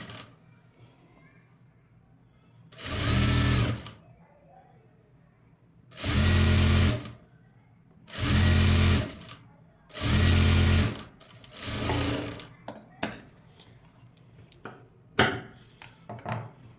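A sewing machine stitches piping onto a cutwork blouse, running in four or five distinct bursts of a couple of seconds each with short pauses between, close and fairly loud, with faint clicks and handling sounds after.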